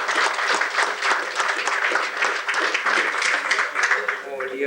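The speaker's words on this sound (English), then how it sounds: "let's give him a round of applause" An audience applauds for an interview guest, dense sustained clapping from many hands that holds steady and begins to thin toward the end.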